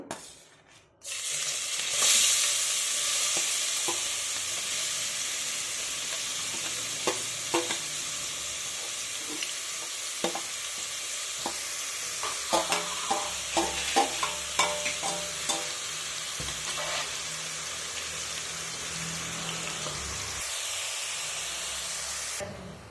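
Onion and green chili fry in hot oil in a pan with a sudden loud sizzle that settles into steady hissing, broken by scattered clinks and scrapes of a spoon stirring, with no voices.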